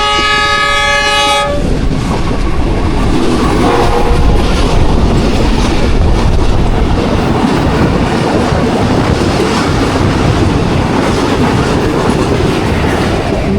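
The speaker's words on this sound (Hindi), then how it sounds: "42 डाउन कराक्रम एक्सप्रेस U40 के साथ।" Karakoram Express, 42 Down, hauled by a U40 locomotive, gives a long horn blast at the start and then roars past close by with loud, continuous rumbling and clattering wheels to the end.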